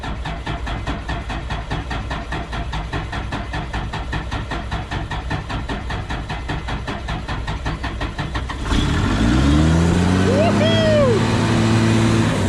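A dirt-hauling truck engine, in need of rod bearing repair, labors steadily for about nine seconds, then swells louder and deeper as it strains harder under load, with a voice speaking over it.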